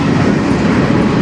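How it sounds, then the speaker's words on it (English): A CN freight train rolls past close by on the Strathroy Sub near Sarnia station, a loud continuous rumble with rhythmic wheel clatter. "I'm not sure what train this is."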